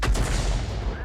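AMX 13 F3 AM self-propelled artillery gun firing in a tank video game, a single loud, close boom that rolls out and decays over about a second.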